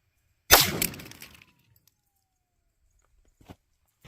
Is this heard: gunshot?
yes